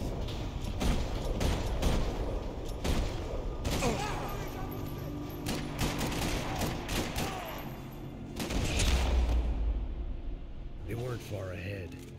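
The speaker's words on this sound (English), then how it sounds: "Another parking lot rattling with gunfire." Gunfire rattles through a parking lot in the video game Max Payne 3: dense bursts of shots and impacts run throughout, with a voice talking over much of the action.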